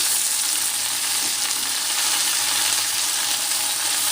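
Chopped gongura leaves fry in hot oil in a pan, with a loud, dense, continuous sizzle that holds steady from start to finish.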